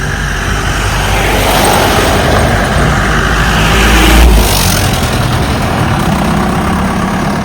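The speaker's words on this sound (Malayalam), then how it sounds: "പിന്നെ ഇതാ നമ്മുടെ കാർ എടുക്കണു" A car sets off on hilly roads at Kanthalloor near Munnar, with a loud, close engine rumble that swells briefly as it revs midway, then settles into a steady drone, with no talk.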